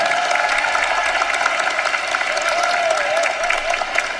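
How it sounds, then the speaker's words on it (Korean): An audience at a presidential speaking event breaks into applause, a continuous dense clapping heard close and fairly loud, with a faint sustained tone running underneath. "박수 한번 하세요."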